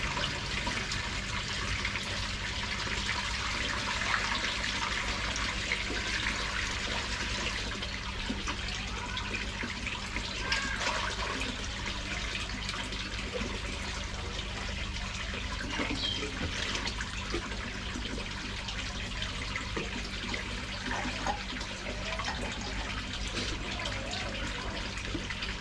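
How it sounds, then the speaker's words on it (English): Clay treatment being poured into a garden koi pond, giving a steady, continuous watery splash and trickle at close range under a constant low hum of pond equipment, with no talking. "So, right, I'm going to put my clay treatment in now."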